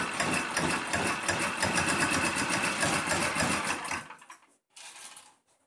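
A Predator 212 small engine runs loud and steady for about four seconds with a fast chugging beat, then cuts out abruptly, leaving only a brief faint rustle afterward.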